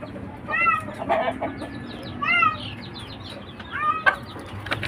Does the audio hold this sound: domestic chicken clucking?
yes